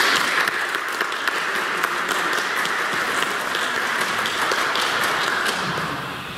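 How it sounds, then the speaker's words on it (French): Church congregation applauding the mothers present during a Mass, a dense, even wash of many hands clapping that holds steady and fades slightly at the end. "On pourrait les applaudir."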